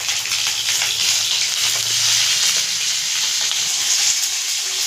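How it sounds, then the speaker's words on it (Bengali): Long strips of eggplant sizzle steadily in hot oil in a home kitchen, a loud, even frying hiss that holds throughout. "দেখুন বেগুনটা কি সুন্দর লম্বা লম্বা করে কেটেছি, তেলে ছেড়ে দিচ্ছি।"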